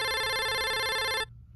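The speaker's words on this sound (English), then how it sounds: "I got a phone call real quick" A telephone ringtone trills loud and steady with bright, evenly stacked tones, then cuts off abruptly after about a second, leaving a quiet room.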